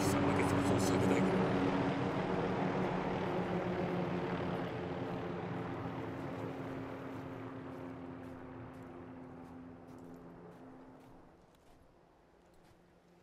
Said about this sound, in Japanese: コンニのヘリが敵兵を下ろしたぞ